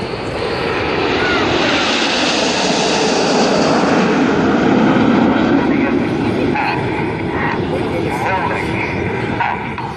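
Red Arrows display jets at the Southport Airshow in 2014 roar steadily overhead, a loud, continuous engine wash that swells and lingers for the whole stretch, with crowd and commentary voices faintly mixed beneath.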